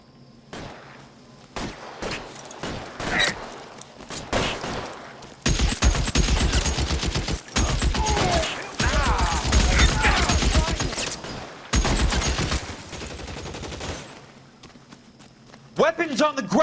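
Gunfire in the L.A. Noire video game during a shootout: loud clustered bursts of rapid shots separated by brief quiet gaps, with someone talking in between and over the firing.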